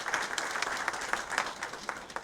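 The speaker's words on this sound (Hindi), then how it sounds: "मैं चाहती हूँ आप सबके जोरदार तालियों के बीच एक बार हम सर का अभिनंदन करें" Audience applause at a ceremony welcoming an honoured guest, a steady dense wash of clapping from a sizeable crowd, fairly close and even throughout with no voices over it.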